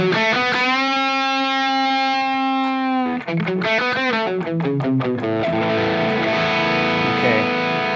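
Distorted electric guitar through a Hotone Ampero II Stage amp modeler's built-in amp model with drive engaged plays crunchy sustained chords, then a run of choppy strummed notes and a ringing chord, loud and saturated.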